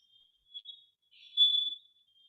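A timer alarm goes off with thin, high electronic beeps: two short chirps, then a longer, louder ringing burst, faint and isolated against silence.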